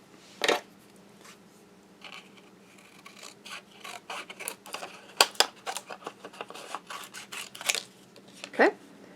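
Cutting out a card piece for a handmade sympathy card, with close snipping and paper rustling in uneven bursts, including a few sharper crisp cuts.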